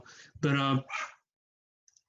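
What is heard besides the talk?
dog barking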